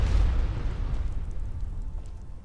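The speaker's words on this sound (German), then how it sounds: "Warum explodiere ich?" In the Skyrim video game, an explosion bursts with a loud, deep boom at the start and rolls off into a long rumbling decay that fades over a couple of seconds, with no voices.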